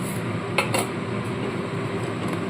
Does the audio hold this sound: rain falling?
no